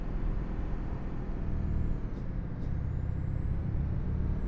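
A heavy truck with a custom trailer in Euro Truck Simulator 2 lets out two quick air-brake hisses over a steady, droning engine rumble.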